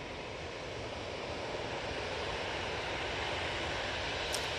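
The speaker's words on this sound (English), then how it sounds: "Next in, we have the Helvetic E190 coming in from Zurich." A Helvetic Embraer E190 airliner arriving from Zurich at Manchester Airport, a steady broadband jet roar holding constant throughout at moderate level with a rushing, wind-like wash and no talk.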